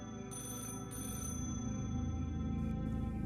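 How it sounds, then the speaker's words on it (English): A telephone rings in repeated short bursts of high electronic trilling, layered over a constant low droning background. "I stared at the phone as it rang."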